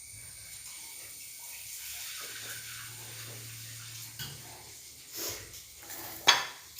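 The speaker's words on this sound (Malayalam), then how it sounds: "അപ്പം ഞാൻ ഈ ഒരു ചട്ടി അടുപ്പ് ഇതിൽ ലേശം വെള്ളം എടുക്കട്ടെ" A pan is set on a kitchen stove and a little water is added for a taro-stem curry: low, soft clatter and faint pouring, with a sharper metallic knock near the end, quiet throughout.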